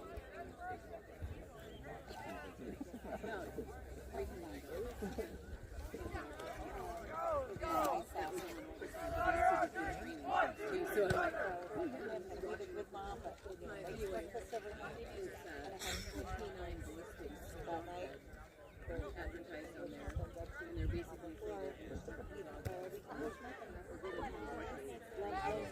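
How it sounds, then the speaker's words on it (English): Steady crowd chatter and murmuring at an Ankeny Thunder game, picked up faintly through a phone microphone as a continuous, distant hubbub with no clear peaks. "I'm told I'm picking up a little crowd noise"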